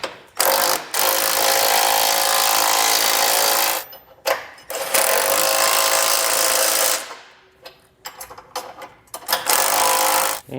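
Tightening Roadmaster Direct-Connect base plate hardware on a 2023 vehicle with a 3/4 inch socket and wrench: long bursts of rapid ratcheting, loud and close, separated by brief pauses and a few short clicks toward the end.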